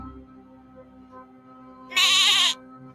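A goat gives one loud, bright bleat lasting about half a second, close by, standing out against a low murmur of people and background hum around a Premier League football match between Tottenham and Wolves.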